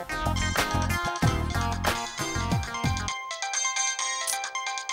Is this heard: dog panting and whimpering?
no